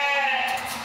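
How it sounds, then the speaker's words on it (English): Sheep bleating close by in a short burst on an Australian farm, a single wavering call with voices nearby. "Are those your sheep?"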